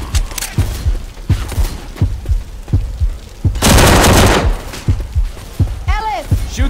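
Rapid gunfire in Left 4 Dead 2, with repeated sharp shots in quick rhythm, a dense burst of automatic fire midway, and in-game voices calling out over the shooting.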